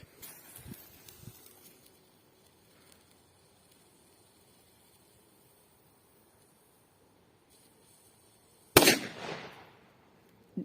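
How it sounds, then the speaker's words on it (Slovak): One sharp, loud report from a Big Bang firecracker comes after a long quiet outdoor wait, its crack ringing briefly into a fading hiss before a small pop at the very end. "Ďalej petarda Big Bang."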